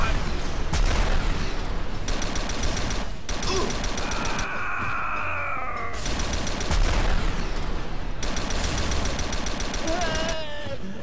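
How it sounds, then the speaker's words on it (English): Rapid bursts of weapon fire blast point blank in the video game Star Trek Elite Force 2, loud repeated volleys separated by short gaps, with whining energy tones and a voice under the din. "Or you can just fire point blank at him."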